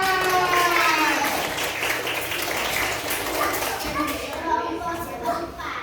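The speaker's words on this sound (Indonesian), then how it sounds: "Ya, tepuk tangan buat Sa'dan." A classroom of pupils claps together in a loud, dense burst that thins out over several seconds, while children's voices and chatter carry on over the applause.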